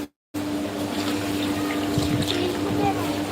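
Boiling hot water poured over goat tripe to clean it, a steady rushing and splashing pour that runs without a break after a brief silent gap at the start.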